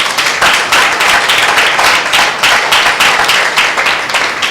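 A church congregation claps in loud, steady rhythmic applause that carries on without pause.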